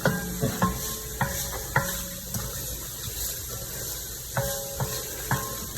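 Beef and onions sizzling in a pan with a steady frying hiss, punctuated by repeated clacks and scrapes of a spoon stirring against the pan, close and moderately loud.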